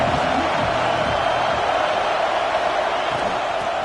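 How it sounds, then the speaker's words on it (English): Stadium crowd at a football game, a broad steady roar of many voices filling the space, loud and continuous with faint low thumps underneath. "This crowd ready to make its presence known."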